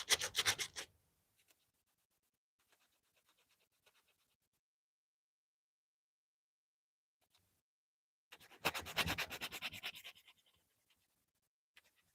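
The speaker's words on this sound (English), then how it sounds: "we got to continue sanding down" Sandpaper rubs against a knife being shaped for its sheath shoulders, a short burst of scratchy scrubbing, then near silence, then a longer run of close, rhythmic rasping strokes.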